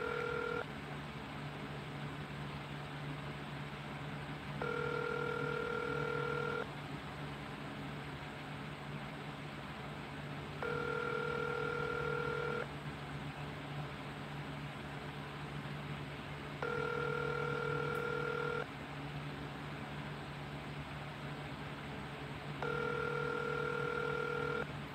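A telephone rings out on a call to a burner phone, four evenly spaced double-tone rings with quiet gaps between them, heard through the line over a steady low hum.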